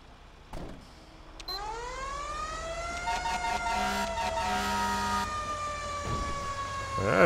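Fire engine siren in GTA 5 responding to a vehicle fire call on a Chicago map, a wailing tone that sweeps up and holds steady, with short horn blasts and engine rumble underneath.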